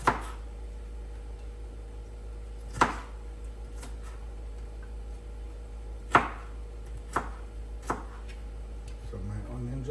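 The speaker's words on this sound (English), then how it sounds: "I'll show you how I cut up my onion." A knife cuts up an onion on a board in a few sparse, sharp chops spaced seconds apart, faint against a steady low hum.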